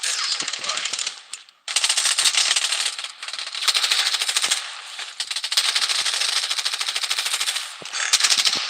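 Gunfire in the video game Payday: long, rapid, loud automatic bursts rattle almost continuously with brief gaps, close and dense, with faint voice activity mixed in.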